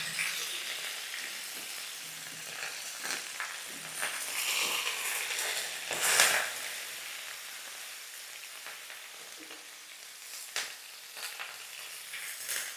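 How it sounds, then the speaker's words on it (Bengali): Cauliflower pieces fry in hot oil with a steady crackling sizzle, close by, with occasional stirring scrapes and pops throughout. "ফুলকপিটাকে লাল লাল করে ভাজতে হবে"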